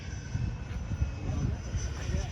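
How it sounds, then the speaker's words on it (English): Engine drone of a BVM F86 jet model airplane flying, a steady low rumble with a faint whine above it, heard from a distance with outdoor noise and people present. "I'm really impressed by this little airplane."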